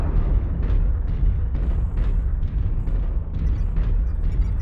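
Artillery strike in the mech combat game MechWarrior Online, a rapid, continuous series of heavy rumbling explosions pounding one after another at fairly close range, dense and booming throughout without talk.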